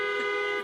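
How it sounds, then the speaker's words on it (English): A car horn blares as one steady, sustained honk, fairly close and alone with no talk, among cars at a drive-in film festival screening, with the sound trailing off at the end. "I think Meira needs some honks from everybody, don't you think?"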